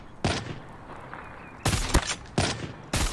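Sniper rifle shots ring out in Call of Duty Mobile gameplay: four sharp, loud cracks spaced irregularly over about three seconds, each with a brief ringing tail over quiet game background.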